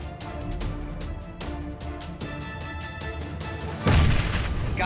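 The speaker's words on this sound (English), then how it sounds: "Grenades." Grenade explosions in a first-person shooter match: a low, booming blast bursts out loud near the end after a stretch of rattling gunfire and ambient battle noise.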